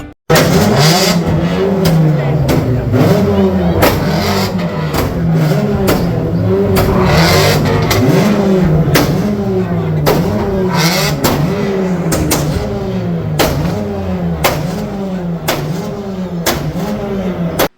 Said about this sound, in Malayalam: സിനിമാ തിയേറ്ററിൽ മോഡിഫൈ ചെയ്ത കാർ ഉപയോഗിച്ച് അഭ്യാസ പ്രകടനം.